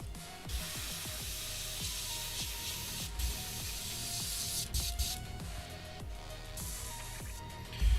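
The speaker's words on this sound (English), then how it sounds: "Thinned out and sprayed on from a distance." Thinned tan paint sprayed onto a scale model HMMWV from a distance, a steady close airbrush hiss running throughout with low rhythmic compressor-like pulsing beneath.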